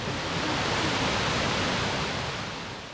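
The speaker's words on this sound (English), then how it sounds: "There are 60 meters of waterfall in a green setting that is a feast for the eyes." The 60-meter Kuang Si waterfall in Laos pours in a steady, dense roar of rushing water, loud and continuous, easing slightly toward the end.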